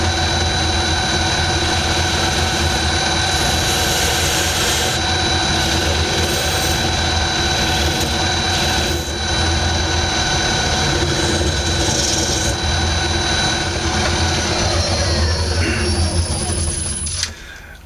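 A wood lathe spins a cakestand blank at raised speed, giving a loud, steady broadband whir with a constant hum that runs unbroken and close for the whole stretch.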